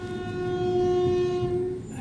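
A long, steady horn blast on a single sustained tone sounds loud and close, fading slightly at the end, with no talking over it.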